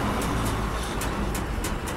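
An MSRTC bus drives along a road between Dhule and Chhatrapati Sambhajinagar, a steady loud engine and road roar heard from inside, with brief hissing bursts recurring throughout.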